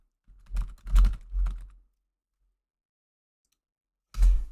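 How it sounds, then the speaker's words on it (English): Typing on a computer keyboard in the background: three quick bursts of soft clicks close together, a long silence, then one more burst, quiet. "If you hear typing in the background"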